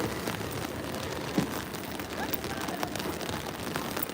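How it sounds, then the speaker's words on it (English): Unexpected rain falling outdoors in Guangzhou, China, a steady hiss of raindrops on surfaces with scattered sharper patters and a few faint background sounds. "Wow, this is unexpected rain."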